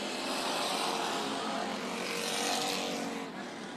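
Race cars during a heat race at Bakersfield Speedway, engines roaring as several cars battle on track, a dense distant roar that swells and slightly fades.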